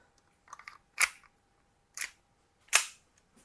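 A Double Bell AM.45 airsoft pistol fires three sharp, separated shots for a power test, preceded by a few light mechanical clicks, all close and with no talk.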